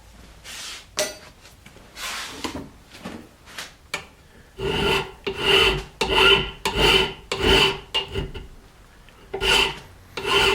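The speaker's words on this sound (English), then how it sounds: "I'll stick the stock in a vise, and I'll start whaling away with a bastard file" A bastard file filing steel pin punch stock clamped in a vise, with rhythmic rasping strokes that start sparse and then settle into a steady back-and-forth cadence, close and loud.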